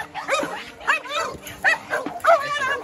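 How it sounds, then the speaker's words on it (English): A big gamebred bull-type dog barks four times in a steady rhythm, close and loud, each bark with a whiny, yelping edge, in a kennel yard. "Big dog with a lot of drive."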